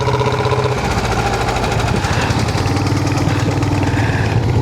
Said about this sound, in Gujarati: અમારે આ જગ્યા પર બહુ એટલે બહુ આ વાહન ચાલે છે ટેમ્પો